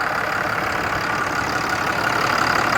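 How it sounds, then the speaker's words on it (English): A truck engine switched into 12-valve mode, a steady, even mechanical drone running continuously at moderate loudness with no voices. "if I click right here, 12 valve, it'll switch over and we'll actually hear the truck change sounds"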